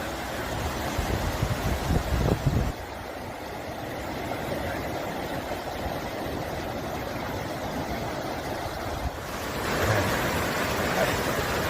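A creek rushes during a river crossing on the Pacific Crest Trail, a loud, continuous churning roar of water close by, with wind buffeting in places and no clear talking.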